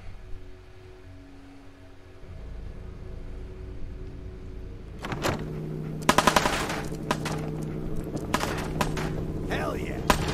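Laser musket being cranked and fired in Fallout 4: quiet ambience for a few seconds, then a series of sharp, loud shot bursts and cracks in the second half over a steady hum.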